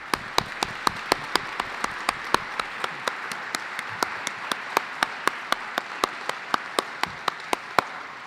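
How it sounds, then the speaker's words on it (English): An audience applauds a development-goals panel, sparse, fairly quiet clapping under regular sharp percussive clicks repeating roughly every third of a second. "I'd ask you in the audience to join me in applauding our panel"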